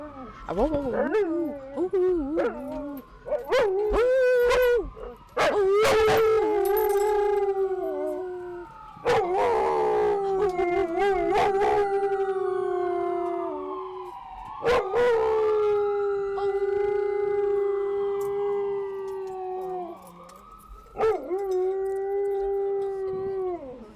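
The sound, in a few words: dog howling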